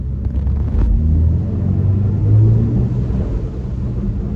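A BMW i7 electric luxury car hums along while driving, a low steady rumble and road noise with a faint motor whir rising and falling slightly, no voices over it.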